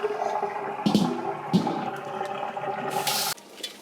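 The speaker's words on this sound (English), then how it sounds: "I'm gonna refill it with cold water" Cold well water running from a kitchen faucet into a container, a steady splashing gurgle with a few clunks and a brief rushing surge before the flow cuts off.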